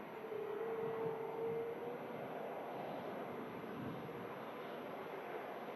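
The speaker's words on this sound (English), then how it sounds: "An A321 Neo, brand new from March 2024 on the way out to Fuerteventura" An Airbus A321neo airliner departing Manchester Airport for Fuerteventura, a faint, distant, steady jet roar with a brief whining tone early on, heard alone.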